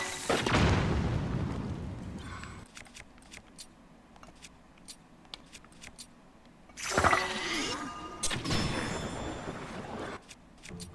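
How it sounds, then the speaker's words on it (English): In Zelda: Tears of the Kingdom, a bomb blows up against vines in a sky-tower cave. Deep booms land near the start and again partway through, with scattered sharp clicks and clatter between them. "You'll have to use a bomb on that"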